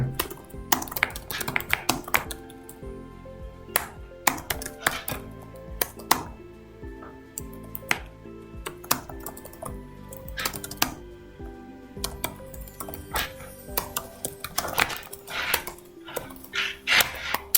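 Keys clatter on a computer keyboard in irregular bursts of quick taps with short pauses, close and clear with no talking.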